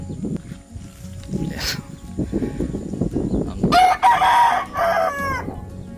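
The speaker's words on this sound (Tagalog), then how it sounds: "pakita ko sa inyo yung kulungan dito ng manok ko" A rooster crows loudly and close by, following earlier clucking from chickens mixed with a few voices in the background.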